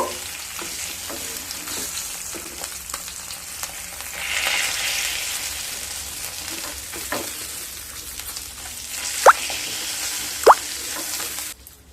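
Pomfret fish frying in hot oil gives a steady, close sizzle with soft spattering throughout, plus a couple of sharp metallic clinks near the end.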